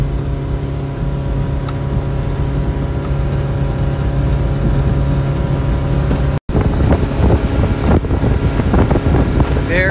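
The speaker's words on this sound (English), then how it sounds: "It is a little bit windy" Steady wind buffets the microphone at a striper fishing spot in an Atlantic City salt marsh near an inlet, blending with a continuous engine-like drone and a brief dropout before the gusty rumble resumes.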